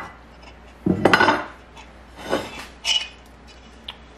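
A turkey and spaghetti squash mixture goes into a pan with one sharp metallic clank, then a short burst of scraping and clattering utensils, followed by a few softer scuffs; no one speaks.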